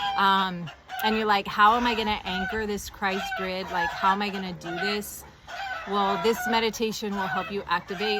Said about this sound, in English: There's some roosters in the background and some hens helping also with the sound frequencies